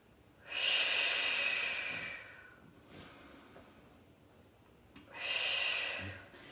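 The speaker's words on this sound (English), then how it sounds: "Take a couple deep inhale, exhales." Deep breathing during a Pilates session, two long close inhales or exhales separated by a quieter breath, with no talking.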